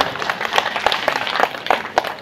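A gathered crowd at a village peace-march closing event claps in a brisk, fairly close burst of applause, individual hand claps audible within the steady patter.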